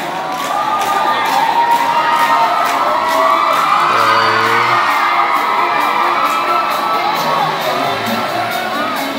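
A packed crowd at a pop concert screams and cheers in a loud, sustained roar, shrill voices dominating with rhythmic clapping pulsing throughout.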